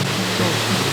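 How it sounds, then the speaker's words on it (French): Montezuma Falls, a 104-metre waterfall in Tasmania, gives off a continuous broad roar of falling water, steady and full for about a second with nothing else standing out. "Montezuma Falls, c'est la cascade la plus grande de Tasmanie, 104 mètres de haut"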